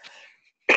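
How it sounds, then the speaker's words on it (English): A single harsh cough from someone with a summer cold bursts out loudly near the end, following a stretch of faint breathy noise and near silence. "Sorry, summer cold cough."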